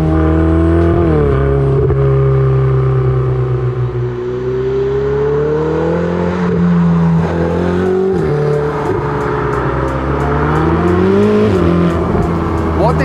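A 2016 Ferrari 488 GTB's engine pulls hard and loud from inside the cabin in race mode, its note climbing steadily through the revs, dropping briefly at each gear change, then rising again.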